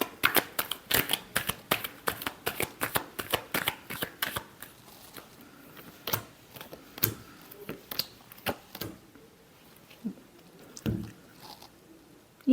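Tarot cards are shuffled by hand in a quick run of crisp riffling flicks, closely miked, thinning into a few slower scattered shuffles with pauses toward the end.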